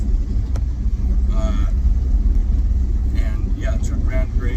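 A 1978 Dodge D200 truck cruises on scenic back roads, its engine and road rumble a loud, constant low drone from inside the cab, with someone talking over it.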